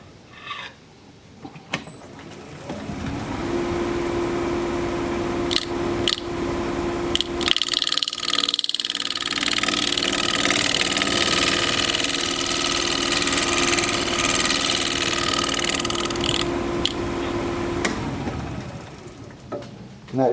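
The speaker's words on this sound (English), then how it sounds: "we'll let the bottom wing do the shear scraping" A bowl gouge shear-scrapes a mulberry live-edge bowl spinning on a wood lathe, giving a steady whirring hum with a sustained tonal whine and gritty scraping for about fifteen seconds, with brief pauses and clicks at the start and end.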